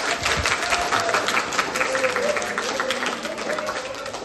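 Audience clapping at a mental health training programme at a special school, a dense, steady round of applause from a crowd that carries through the whole stretch with mixed voices murmuring underneath.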